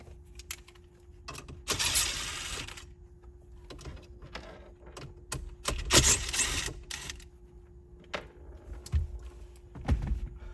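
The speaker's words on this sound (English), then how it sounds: "we're going to take these two 7mm screws out" Two 7mm screws are backed out of a car radio chassis during a Ram 8.4-inch screen install, with small scattered clicks, scrapes and handling noises close by, no voices.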